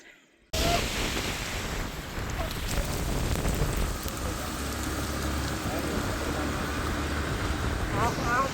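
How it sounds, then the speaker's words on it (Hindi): Heavy rain in a storm hitting a hillside farm plot in mountain village country, a dense steady hiss that cuts in abruptly after a quiet start and holds loud throughout, with gusty wind mixed in. "तब तक यहाँ पर बहुत आंधी तूफान आ गई"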